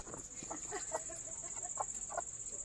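Chickens cluck as they are shut in for the evening, giving short repeated clucks close by over a steady high-pitched whine.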